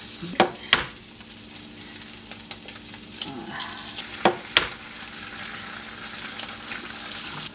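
Eggs frying in a pan, a soft steady sizzle under a few sharp spatula scrapes and taps against the pan, with no talk.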